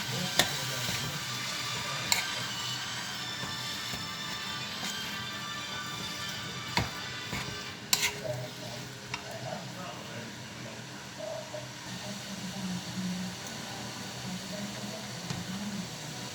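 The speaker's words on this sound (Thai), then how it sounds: "ใส่วุ้นเส้นผัดนี้แป๊บนึงแล้วใส่วุ้นเส้นลงไป" Glass noodles stir-fried in a pan at home, with faint sizzling and scattered utensil clicks and scrapes against the pan while a person talks over it.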